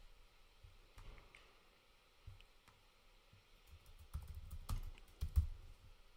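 Faint, sparse clicks of typing on a computer keyboard, scattered keystrokes that grow a little busier and closer toward the end, with no talk.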